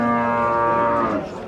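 A cow at a livestock market in Chiroqchi gives a single loud, drawn-out moo, close by, that tapers off near the end.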